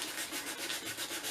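Steady hand sanding of old paint off a metal tin, worked in one direction, a close, continuous gritty rubbing with a gentle pulsing rhythm and no talk.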